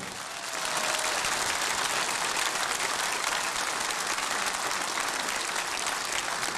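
An audience at a Slovenian folk music concert applauds in a hall: dense, steady clapping from many hands that starts quickly and holds at an even, loud level throughout.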